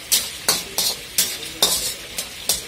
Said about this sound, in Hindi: अब इसको मैं थोड़ा सा हल्का सा फ्राई करूंगा